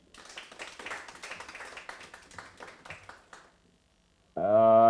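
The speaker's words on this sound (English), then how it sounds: "clap for her once again." An audience at a climate change symposium claps for several seconds, a dense patter that fades to silence before a loud tone cuts in.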